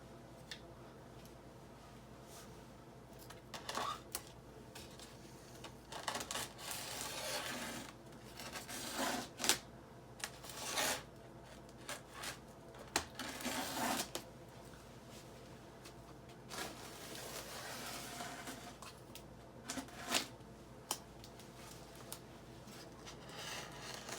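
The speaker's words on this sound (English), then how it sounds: "Let's go ahead and get the next level cut open so we can get started on the base." A blade slices and tears through cardboard and plastic packaging of a Prime 1 Studio Arkham Origins Batman statue box, in faint, scattered scrapes, rips and rustles across a quiet room.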